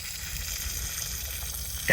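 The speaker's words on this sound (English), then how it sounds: "we have water, and check it out. It's peeing." Water from a newly installed yard hydrant gushes and splashes in a steady, hissing stream, fairly close and constant, with a brief sharper burst at the very end.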